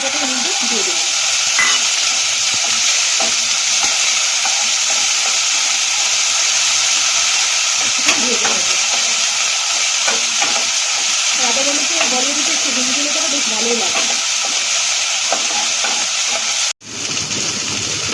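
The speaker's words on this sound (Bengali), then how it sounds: "আদা কাঁচা লঙ্কাটা ভাজা হয়ে গেছে" Ginger and green chili fry in hot oil seasoned with asafoetida and fennel, producing a loud, steady close-up sizzle with stirring scrapes throughout and a sudden drop at the end.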